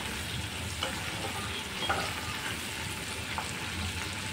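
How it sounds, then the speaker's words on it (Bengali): Capsicum and soya chunks sizzle in a hot pan as they are stirred, a dense close frying hiss broken by a few light scraping knocks from the spoon. "তো সমস্ত কিছু ভালো করে ভেজে নেব"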